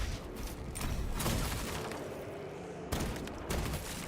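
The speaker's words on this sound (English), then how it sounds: "We will unleash the cannons to invite wrath on the Hierophant" Cannons fire in the Warhammer 40,000: Space Marine 2 video game, a loud rolling barrage of heavy blasts and rumbling impacts, with another sharp burst partway through and no talking.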